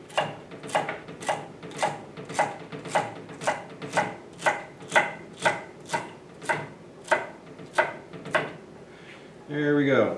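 A knife chops celery on a cutting board in a steady run of about twenty crisp, evenly spaced strokes, close and clear, ending in a brief scraping rustle.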